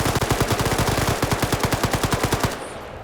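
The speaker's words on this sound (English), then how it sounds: "Just mag dump it." Sustained automatic gunfire from a weapon emptying its magazine in the military game Arma, a rapid, even stream of loud close shots for about two and a half seconds before cutting off.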